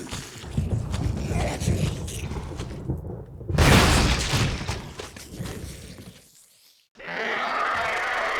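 A grenade blast in Resident Evil HD bursts out as a loud, broadband boom around the middle of the stretch, among other thuds and game noise, before the sound drops to near silence and then returns.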